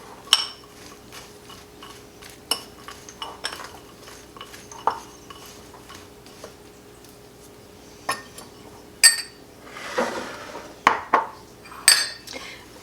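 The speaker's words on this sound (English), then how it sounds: "We just want to mix it all together." A spoon stirs sweet potato souffle mixture with pecans in a bowl, giving sparse clinks and scrapes against the dish that grow busier and louder toward the end, with no talking.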